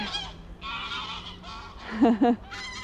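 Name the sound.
loud birds honking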